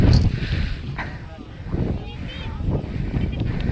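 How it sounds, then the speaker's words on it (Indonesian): Strong wind buffets the microphone on a mountain trail at 1585 m on Gunung Pundak in East Java, a steady loud rumble with gusts swelling and easing throughout, while people talk over it. "Angin yang gawat bos."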